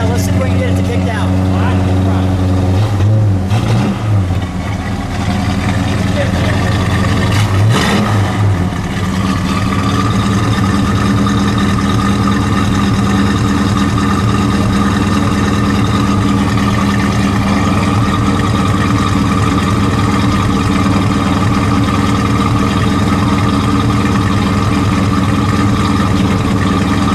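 A green 1970 Mercury Cyclone Spoiler with a 429 CJ V8 runs loud and steady, its deep engine note holding close throughout with a couple of brief swells early on, while people talk over it.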